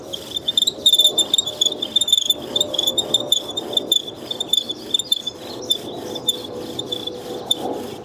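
A steady, scratchy rubbing of a pine bow drill spindle on a pine board, repeating in quick back-and-forth strokes, with a high whining squeak riding over it throughout.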